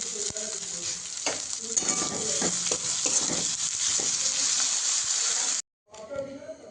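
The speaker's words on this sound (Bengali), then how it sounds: "এবার এতে টমেটো, কয়েকটা কাঁচা লঙ্কা আর ধনেপাতা কুচি দিয়ে একটু নেড়ে নেব।" Onion, tomato, green chilli and chopped coriander stirred in a frying pan for a katla fish bharta, a steady close sizzle with scraping spoon strokes, broken by a brief cut near the end.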